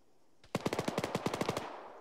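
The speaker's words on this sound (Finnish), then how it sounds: "Tuo on vissii tekoäly, jolla on joku LMG." Light machine gun fired by an AI soldier in modded Arma 3: one rapid burst of roughly a dozen sharp, evenly spaced shots, fairly close and loud, ending abruptly in quiet.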